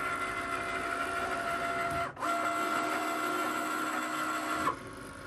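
A Cricut Maker machine cutting fabric whirs with a steady electric motor hum and whine close by, pausing briefly midway before resuming and stepping down at the end.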